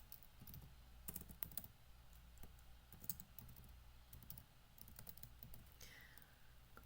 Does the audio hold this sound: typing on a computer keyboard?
yes